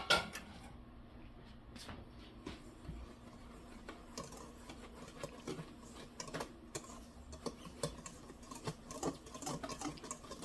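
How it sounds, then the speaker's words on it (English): Cake batter being whisked in a bowl, a quiet, quick and uneven patter of whisk taps and scrapes that runs steadily from start to finish. "Okay, do some whisking."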